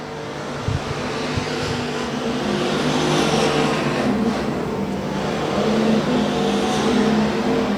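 Race cars roar around the Rose Bowl Speedway track as the leaders enter the front straightaway, a loud continuous engine drone that swells as cars pass, with a brief knock early on.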